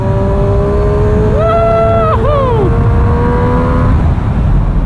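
A 2017 Triumph Street Triple 765 RS engine drones at high revs around 7000 rpm, its pitch climbing, then dropping sharply through quickshifter gear changes, heard from on board amid wind noise.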